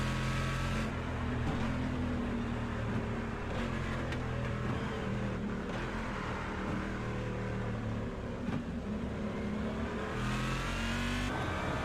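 GT1 race cars in a racing video game descend the hill at Mount Panorama, engines roaring loud and steady throughout with shifting revs and pitch changes as the pack runs close together.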